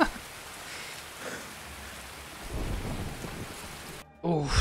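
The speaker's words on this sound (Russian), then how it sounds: "Дождь, капец." Steady rain pours with low thunder rumbling through it in the game Escape from Tarkov, swelling louder near the end before a brief quieter break and a final burst of storm noise.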